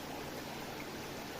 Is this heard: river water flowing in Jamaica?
yes